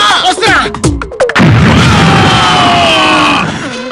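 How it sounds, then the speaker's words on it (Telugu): A bomb goes off in a Telugu action film: after brief voices, a sudden loud blast erupts, followed by a long, rumbling roar that slowly fades over several seconds. "బాంబు పేల్టలేదేంటి? తొందరపడకండి, అదే పేలుతుంది."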